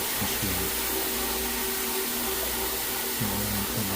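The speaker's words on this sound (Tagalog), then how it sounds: "Nagamitan ng vacuum machine." A vacuum machine runs steadily on a ceramic tile classroom floor, a loud continuous whirring drone with a few brief tonal shifts, close and with no talking.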